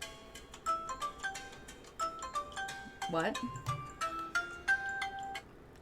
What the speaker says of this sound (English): Decline. I don't answer the phone.